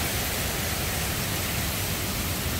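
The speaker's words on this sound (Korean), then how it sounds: "며칠 때 비가 억수같이 내리더니 계곡물이 아주 시원하게 흘러갑니다." A mountain valley stream runs full after days of heavy rain, giving a loud, steady, unbroken rush of water close by.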